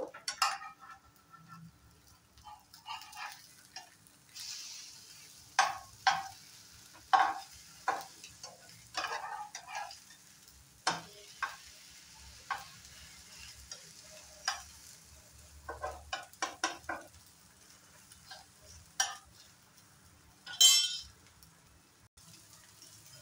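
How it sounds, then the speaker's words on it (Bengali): Drumstick leaf and egg fritters frying in oil: a quiet sizzle with scattered sharp spatters and pops, plus occasional soft scrapes of a utensil, close by with no talking. "বড়াগুলো আমি 2 পিঠ সুন্দর করে ফ্রাই করে নেব।"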